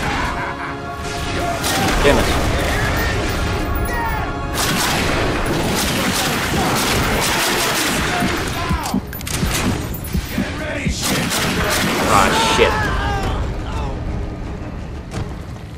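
Gunfire and crashing blasts from The Darkness 2 fill a loud, dense stretch of game action, with rapid shots and impacts over a busy background and talk mixed in.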